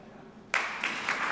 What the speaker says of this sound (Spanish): Aplauso de todos los presentes